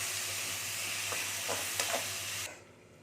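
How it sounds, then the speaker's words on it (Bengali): Potatoes fry over a low gas flame in a pan for a bitter gourd dish. A steady close sizzle is broken by several soft scraping stirs, and the hiss drops away sharply near the end. "আলুটাকে আমি একটু নেড়ে নিচ্ছি"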